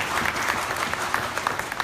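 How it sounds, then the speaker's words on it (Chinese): A crowd at the Cartier fine jewelry gala applauds, a steady, dense roar of many hands clapping at close range that holds a constant level from start to finish. "再掌声尖叫鼓励一下"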